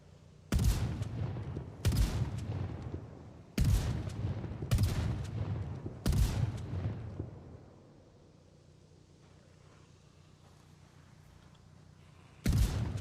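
Shotgun blasts in a video game, six loud single booms spaced about a second or more apart, each with a short decaying tail, a quiet lull, then one more blast at the end.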